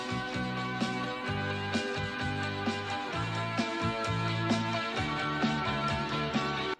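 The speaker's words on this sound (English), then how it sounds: "the song dubbed the most mysterious song on the internet was recorded off of German radio in the 80s" A 1980s pop song recorded off German radio, with a steady rhythmic beat, a bass line and sustained synth tones playing continuously at low volume.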